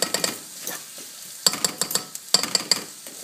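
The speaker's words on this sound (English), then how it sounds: "That's sizzling in the pan," Peppers, garlic and onions sizzle in a pan for spaghetti bolognese, with bursts of frying crackle as a utensil stirs and scrapes through them, the stirring coming in short rhythmic groups close by.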